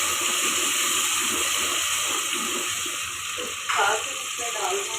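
Tomato puree sizzles as it hits hot oil with garlic and ginger for dhaba-style fried chana dal. The hiss is close and constant, and a faint voice talks underneath.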